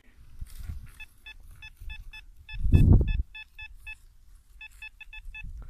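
Short electronic metal detector beeps repeat in quick clusters, high and clear, with a brief rustle of handling in the middle, in a field.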